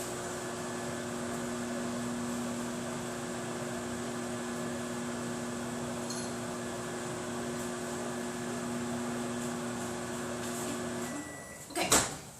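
Microwave oven running while cooking pumpkin fudge, a steady close mechanical hum with a fan whir that stops abruptly near the end, followed by a loud clunk of the door opening.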